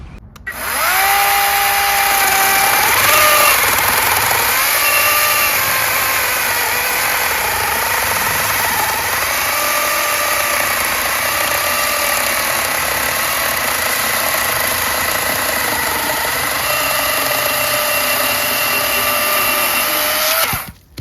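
Lithium-ion battery-powered mini handheld chainsaw running continuously and loud up close, a high electric whine that rises and falls slightly in pitch as it works, alone without talk.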